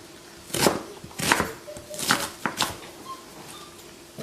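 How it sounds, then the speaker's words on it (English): A knife chops an onion on a cutting board in several sharp, evenly spaced strikes, fairly close and moderately quiet. "I'm going to give this also a light little chop just to help it along with the blender"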